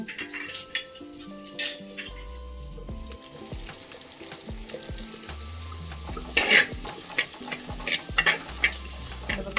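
Mustard seeds sputter and fry in a hot pan while cooking for sambar, with scattered pops and clinks of utensils and pans, loudest in a burst partway through, and a low tonal hum running beneath.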